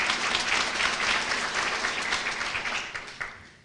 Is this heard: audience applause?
yes